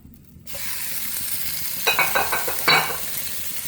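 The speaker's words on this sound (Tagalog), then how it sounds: "Mainit ng ating kawali. So, lagay na natin ang ating longganisa." Longganisa sausage dropped into a hot kawali for fried rice, a sudden loud sizzle bursting up and holding steady, with a few sharp scraping stirs and crackles near the end.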